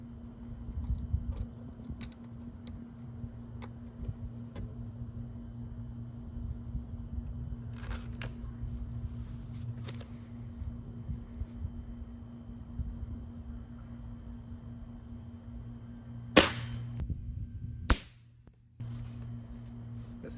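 A .177 pellet gun fires diesel pellets, giving two sharp, loud cracks about a second and a half apart near the end, over a steady low hum with no talk.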